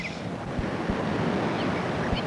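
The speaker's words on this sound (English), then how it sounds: "It's so windy outside." Wind blows outside as a steady, broad rushing noise with faint gusty swells and a few low thumps, moderately quiet and with no voices.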